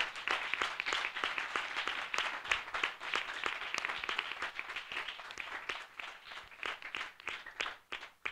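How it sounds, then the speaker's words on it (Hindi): Applause from a church worship gathering welcoming believers, a dense patter of many hands clapping steadily and fairly loud, with sharper individual claps standing out throughout. "हम जोरदार ताली से उनका स्वागत करें।"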